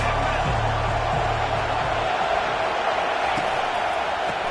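A stadium crowd at a college football game produces a steady, dense roar that holds at the same level throughout, with no single voice standing out.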